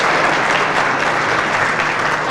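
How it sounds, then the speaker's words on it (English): Dense, loud applause fills the room from an audience at a community coalition event hosted by Northern Bank, a steady unbroken roar of many hands clapping with no voices over it. "big round of applause for Northern Bank for all their work for hosting us"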